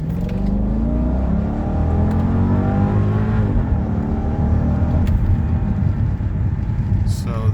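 A 2004 Mercedes S55 in sport mode pulls hard under acceleration, its engine note rising steadily and heard loud and continuous from inside the cabin.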